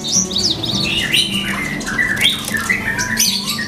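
An oriental magpie-robin, a contest bird shown at national events, gives a string of loud, harsh squawks and chirps, close and continuous, with no talk.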